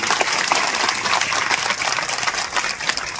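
A crowd at a women's day celebration claps loudly and continuously, a dense wash of applause that stays steady throughout with no voice on top.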